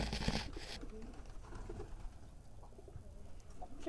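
A red Lal Golla pigeon hen sitting with her newly hatched chick makes a few soft, quiet coos at close range in a hushed setting, with a short burst of rustling at the start.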